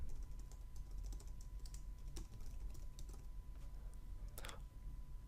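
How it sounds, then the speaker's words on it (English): Typing on a computer keyboard while entering an email address into an account setup form, with light scattered key clicks over a steady low hum in a quiet room. "In the email address field, type in the email address you're wanting to set up."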